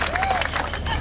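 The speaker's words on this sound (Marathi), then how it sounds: "जोरदार टाळ्या होत्या" Loud applause and cheering from a large audience at a public gathering, a dense, continuous roar of clapping and crowd noise filling the whole brief moment.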